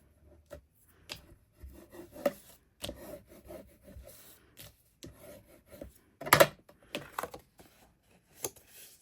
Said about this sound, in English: now we are going to burnish